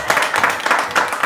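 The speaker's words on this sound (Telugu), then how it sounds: "గట్టిగా క్లాప్స్ కొట్టండి అమ్మా." An audience claps loudly at a drawing competition prize announcement, a dense burst of steady hand claps that lasts the whole short moment with no voice over it.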